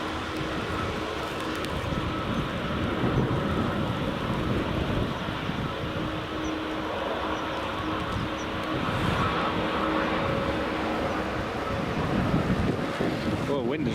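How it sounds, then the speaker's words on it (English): Strong wind buffets a microphone beside runway 24 at Edinburgh Airport in the early morning, a loud, continuous rushing roar that swells in gusts over a low background rumble. "wind has really just picked up"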